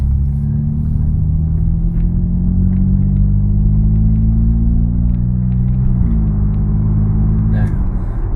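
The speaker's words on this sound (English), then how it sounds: "it changes the gear so smoothly that you don't even realize it changes" A BMW F10 cruises along with a smooth, steady engine drone, its pitch dipping subtly as the automatic transmission shifts, while a person talks over the sound inside the cabin.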